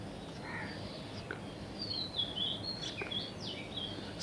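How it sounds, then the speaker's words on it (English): Birds calling in a forest at dawn: scattered chirps and caw-like calls, some fairly close, with a few brief whistles over a steady, faint background hiss. "the forest awakens to a symphony of sounds, birds chirping"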